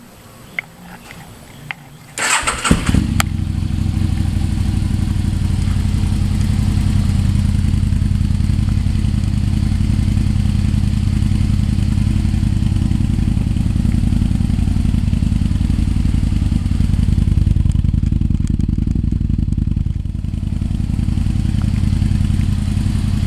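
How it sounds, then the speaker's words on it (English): A 2007 Aprilia Tuono motorcycle with Delkevic aftermarket exhaust pipes fires up after a few seconds of handling noise, then idles with a loud, deep, steady exhaust rumble that holds for the rest of the clip. "we're getting ready to start up the 2007 Aprilia Tuono with the new Delkavic pipes"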